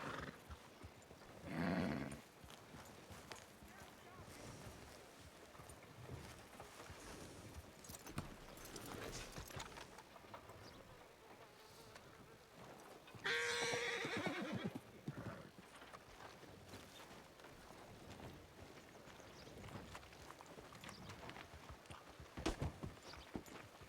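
Horse in a Western video game neighing loudly and whinnying again later, with hooves clip-clopping quietly in between, set against a faint background.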